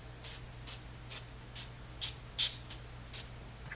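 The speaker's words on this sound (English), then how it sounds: "just spray the tops of our rolls very lightly" Avocado oil cooking spray misted over the tops of frozen Rhodes dinner rolls: eight short, light hissing squirts in an even rhythm, close and fairly soft over a low background hum.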